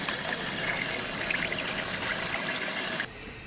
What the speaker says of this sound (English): Adding a venturi to the pump outlet ejects air and fragments the water.